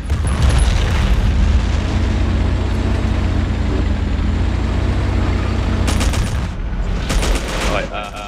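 Bombs burst over and over during a Battlefield 1942 match, a loud, dense rumble of blasts and gunfire from a tank position that barely lets up. Near the end there are a few sharper bursts.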